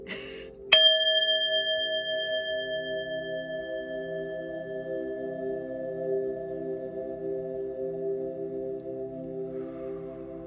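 A single bell is struck once near the start, giving a clear metallic ding that rings on and decays slowly over many seconds in a quiet room.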